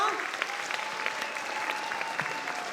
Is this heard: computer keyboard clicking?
no